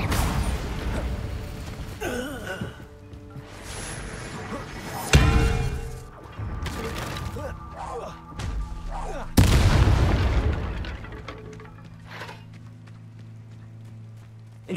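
Spell effects from the Hogwarts Legacy video game, disarming and fire charms among them, land as several loud booming bursts with crackling tails, the two heaviest hitting mid-sequence over a steady low rumble of game ambience.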